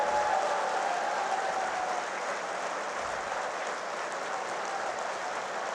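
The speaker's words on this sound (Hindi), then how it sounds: "एक बार मेरे कहने पर लगातार 1 मिनट तक ताली बजा दीजिए" A large crowd at a Hindi-language political rally keeps up continuous, dense clapping for several seconds, a steady, loud wash of applause with no speech over it.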